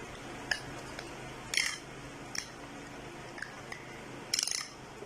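Liver coated with tikka masala and paprika powder is mixed in a bowl, producing a few sparse metallic clinks and short scraping bursts against a quiet background. No voices are heard.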